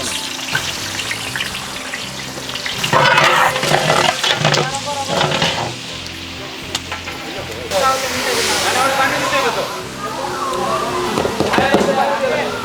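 Onions frying in a pan for khichuri, a loud, close continuous sizzle and hiss with stirring scrapes, surging as they are moved about, and someone talking over it.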